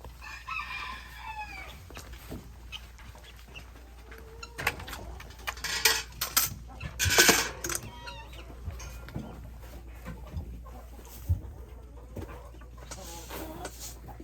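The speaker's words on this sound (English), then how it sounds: "So the chickens, there's a lot of them" A large flock of chickens clucks and calls around a homestead yard at morning feeding, with a rooster crowing in the middle amid scattered bird noises and rustling.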